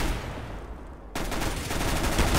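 Rapid automatic gunfire in a CS:GO deathmatch: a quieter stretch of shots gives way to a loud, sustained burst of close firing that keeps going to the end.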